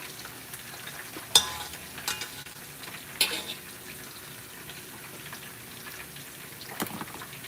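Tomato paste is stirred into kidney beans cooking in a pot for a Liberian-style dish, giving a soft, low sizzle with a few sharp spoon clinks and scrapes at irregular intervals, close by and with no talking.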